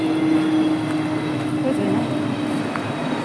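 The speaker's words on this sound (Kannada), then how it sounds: "ಫ್ಲೈಟ್ ಬರೋದುಂಟವೆ" A steady engine drone hums throughout, like an airplane passing overhead at a distance, with a faint tonal whine and no clear talk.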